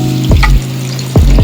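Hot boiled-and-cooled water hits sizzling masala in a pan for an egg curry, giving two sharp bursts of hissing and splashing between a steady frying sizzle.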